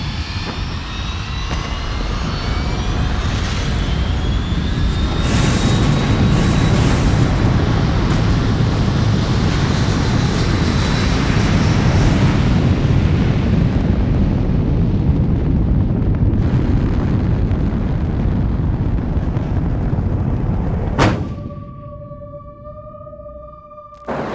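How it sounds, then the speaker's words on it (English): A rocket launch: a huge, sustained roaring rumble that builds and fills the air for about twenty seconds, then cuts off abruptly into a quieter hum. "Today we're going to launch rockets."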